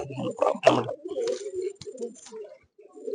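Old-line karingand pigeons coo in a loft in a series of low, throaty coos, close by, with a brief sharper knock and a short pause near the end.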